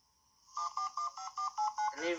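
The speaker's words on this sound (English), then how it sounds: "See, this notebook phone could even ring." A toy notebook phone rings with a run of about eight short, evenly spaced electronic beeps, fairly close and clear, and a voice starts talking just as the ringing stops.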